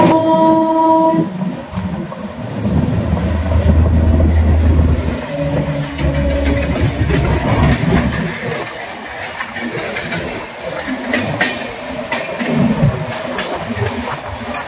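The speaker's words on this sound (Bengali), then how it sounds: "এখন আমাদের অতিক্রম করবে রাঁচি হাওড়া ইন্টারসিটি।" Ranchi–Howrah Intercity train passing close by, a loud continuous rumble of rolling wagons with brief horn-like tones near the start, carrying on steadily throughout.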